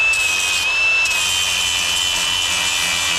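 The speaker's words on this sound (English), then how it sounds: "Got to do a little polishing." A power tool polishes a part for a Kenworth W900A truck under restoration, giving a steady, loud high-pitched whine with a slight dip in pitch partway through, close and continuous with no talking.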